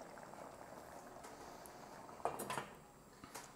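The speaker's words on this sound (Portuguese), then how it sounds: "Já tá fazendo um caldinho, ó. Vocês estão ouvindo borbulhar, ó." Cod and potato stew broth, a Portuguese caldeirada de bacalhau, bubbles in a pot close to the microphone, a soft continuous simmer with a few light clinks of utensils against the pot.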